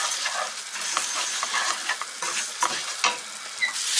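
Butter sizzles in a pan while yogurt spinach is cooked, giving a soft, continuous crackling fry with intermittent stirring scrapes, close and fairly quiet, with no talking.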